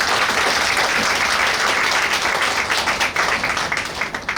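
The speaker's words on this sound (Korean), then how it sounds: "큰 박수로 맞아주세요" Audience applause at a political party's legislative report meeting in Suncheon, Korea: dense, steady clapping from a crowd, loud and sustained, gradually thinning toward the end.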